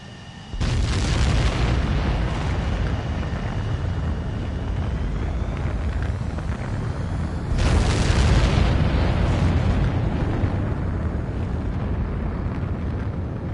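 Fighter jet launching for takeoff in the video game Ace Combat 7, a loud continuous engine roar with a sharp rise near the start and a second surge of thrust partway through, steady and close with no talk.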